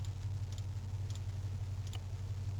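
A car engine in the military game Arma 3 runs at a steady low idle, a quiet rumbling hum with faint ticking clicks above it, unbroken throughout.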